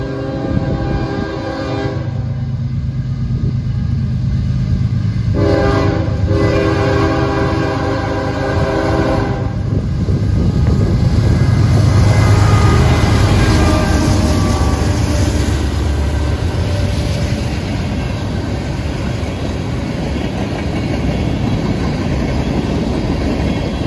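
A westbound freight train of empty crude oil tank cars rumbles past close by, with a continuous heavy roll and clickety-clack of wheels, and a loud horn sounding near the start.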